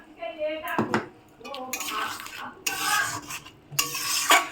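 Water from rinsing a mixer jar poured into a pan of ginger, garlic, chilli and cumin paste for a duck egg curry, with bursts of splashing and sizzling, clanks of metal and a pot, close by.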